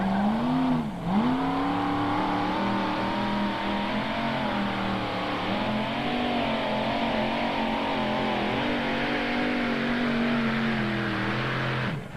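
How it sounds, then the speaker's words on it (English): Modified pulling tractor engine at the 1995 Imlay City, Michigan pull, a loud sustained roar with wavering revs over about twelve seconds, no voices over it. "He and his wife Judy also campaign this tractor very, very strong wherever they go in the modified tractor ranks"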